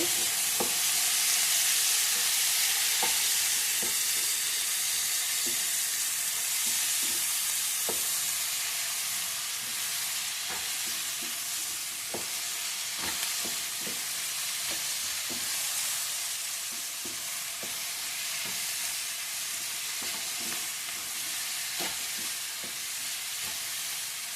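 Chutney for an Andhra-style ridge gourd dish sizzles steadily in a pan as turmeric and cumin are mixed in, a constant bright frying hiss with scattered soft clicks of stirring throughout, close and fairly loud, with no talking.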